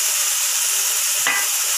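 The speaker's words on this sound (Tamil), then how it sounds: "பாவக்காய் நல்லா தக்காளி கூட வதக்கி விட்டுடலாம்" Bitter gourd sautéing with tomatoes in a pan, a steady close hiss of frying with one brief scrape of stirring near the end, alone without speech.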